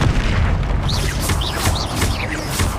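Incendio fire spell cast in Hogwarts Legacy, a game combat scene: several whooshing bursts and booming impacts follow one another over a dense, steady background of game sound.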